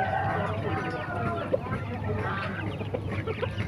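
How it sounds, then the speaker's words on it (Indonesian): A rooster clucking at a poultry market in Muntilan, Magelang, its calls layered with other fowl in a steady, busy din while people talk nearby. "Ini jago"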